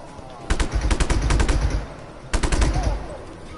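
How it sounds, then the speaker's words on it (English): Gunfire aimed at the player in Just Cause 3: a fast automatic burst of loud shots, a pause, then a second shorter burst, with faint game sounds between. "who's shooting me?"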